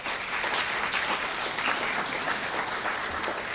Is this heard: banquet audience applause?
yes